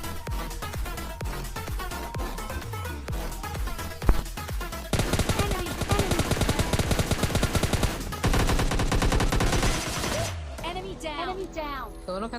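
Rapid automatic gunfire bursts from the PUBG Mobile Lite shooter game, loud and repeated across the clip, layered over dense, musical-sounding game audio.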